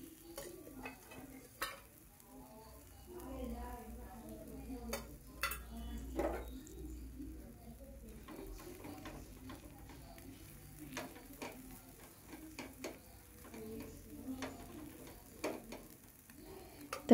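Pesarattu, a green gram crepe topped with chopped green chillies, frying in a little oil on a pan, giving a soft, steady sizzle with scattered light scraping and tapping, quiet and without talk.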